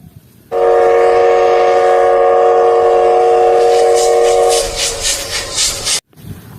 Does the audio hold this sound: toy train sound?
yes